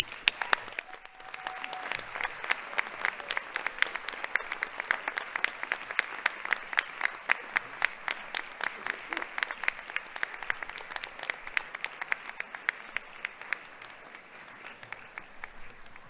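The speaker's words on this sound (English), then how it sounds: "give them a really well-deserved round of applause" Graduates at a university hooding ceremony applauding their families, a long sustained round of crowd clapping with some claps nearer and louder, steady throughout before easing slightly at the end.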